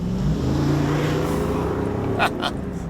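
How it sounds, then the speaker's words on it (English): A V8 engine in a Jeep Wrangler 392 rumbles and revs up close, the low throaty growl swelling and settling, with a couple of brief higher bursts near the end. "a little extra engine sound for you."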